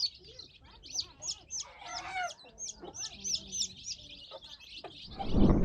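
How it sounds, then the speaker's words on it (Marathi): Desi hens on a village poultry farm cluck and chirp in quick, repeated bursts, several birds calling close by, with a louder rustling noise near the end. "आपल्या बाकीच्या पण कोंबड्या इकडे आहेत बघा"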